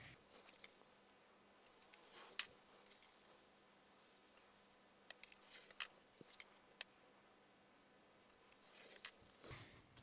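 Scissors snipping through paper while trimming a craft ephemera piece, a quiet close sequence of short crisp cuts in small bursts, separated by near-silent pauses.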